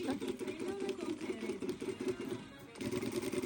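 Sewing machine stitching a thick kitchen apron, a fast steady mechanical whirr running throughout under a woman's speech, with a brief pause near the end before resuming.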